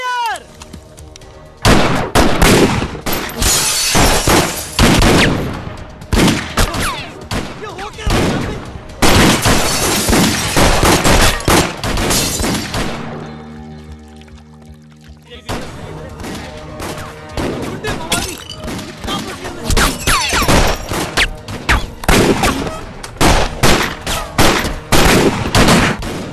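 Rapid bursts of gunfire in a Hindi comedy spy film scene, loud repeated volleys of shots rattling almost continuously, with a brief lull in the middle before the shooting resumes, voices occasionally mixed in.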